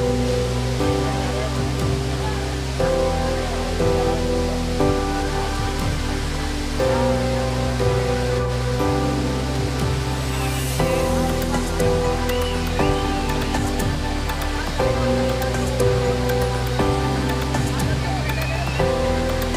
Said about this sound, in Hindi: ये वाटरफॉल देख सकते हो कितने नज़दीक है हम लोग।